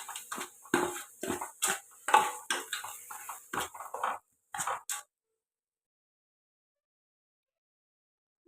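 Rava laddu mixture being mixed with milk on a metal plate, giving a run of close, quick clinks and scrapes in an uneven rhythm for about five seconds before falling silent.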